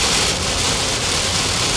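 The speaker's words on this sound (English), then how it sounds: "Nasty rain." Heavy rain while driving on the Pennsylvania Turnpike in mountain country: a steady, loud wash of broadband noise, rain and road roar blending with a low engine rumble, with no breaks and no voices.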